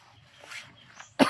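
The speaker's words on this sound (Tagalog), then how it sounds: "Medyo inuubo talaga ako." A person coughing once, a short sharp burst at the end after faint throat noises, fairly quiet and close.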